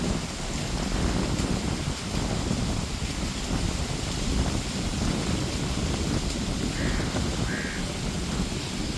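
Steady, loud rush of wind buffeting the microphone on Lakshadweep, a continuous broadband roar with no voices.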